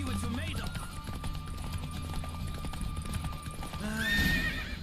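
A horse gallops in a race in The Witcher 3, loud rhythmic hoof clip-clops throughout with a whinny near the end, under light talk.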